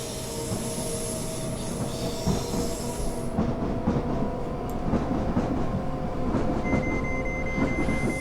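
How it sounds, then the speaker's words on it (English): A Gatwick Express train in Train Simulator 2017 rolls away from the platform with a steady rumble, rhythmic wheel clatter and a high squeal, loud and continuous throughout. "Train departing."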